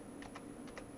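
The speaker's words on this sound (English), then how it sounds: "My server keyboard is actually it's a scissor switch type keyboard." Quiet scissor-switch computer keyboard being typed on, giving about five soft, evenly spaced keystroke clicks against a low steady background hum, with no talking.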